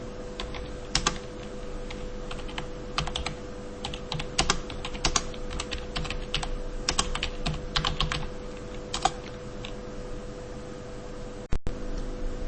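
Someone types a code comment in VHDL on a computer keyboard, with irregular clusters of key clicks over about twelve seconds against a quiet background hum.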